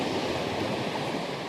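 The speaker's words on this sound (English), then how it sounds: "This is water running from underneath that bank" Water runs out from underneath an eroding sand bank on a Lake Superior beach, a steady, close, hissing rush with no break and no voices.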